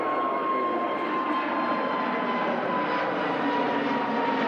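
An EasyJet airliner departs Manchester Airport for Amsterdam with a steady, loud, broad engine roar that holds evenly throughout.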